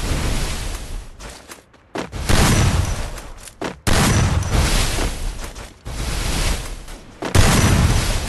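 Gunfire in an online shooter video game: dense, loud bursts of rapid shots and booming blasts in several long volleys separated by brief gaps, close and harsh.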